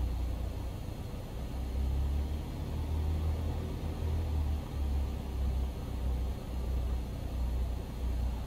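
A Cessna taxiing and rolling out in the X-Plane flight simulator gives a steady, loud low engine drone with a broad hiss, running evenly throughout.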